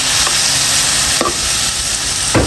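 Steady, loud sizzling of chicken pan-frying, with a couple of sharp scraping stirs partway through and near the end.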